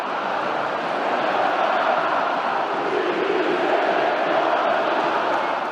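Large crowd of Vasco fans in a football stadium at São Januário, a dense, sustained roar of shouting and chanting voices in protest, steady and loud throughout with no break.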